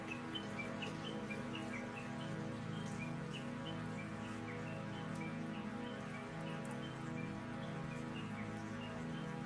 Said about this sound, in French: Des oiseaux.